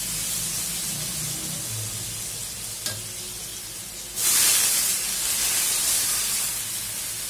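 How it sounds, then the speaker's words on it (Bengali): Water tipped into a pan of well-fried spice paste and hot oil for a curry: a steady low sizzle, then a sudden loud burst of hissing steam that stays strong to the end. "তো এখন আমি পানি দিয়ে দিব আর কি,"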